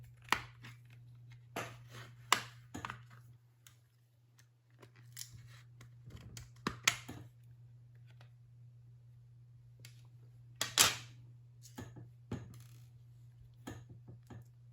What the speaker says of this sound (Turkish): Tırnak yardımıyla arka kapağı söküyoruz